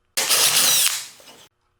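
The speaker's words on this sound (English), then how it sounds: "I use my spade bit to drill a 1/2-inch hole where the beard will sit" A drill fitted with a spade bit bores a half-inch hole into a wooden plaque. One loud, close burst whines for just over a second and then winds down into silence.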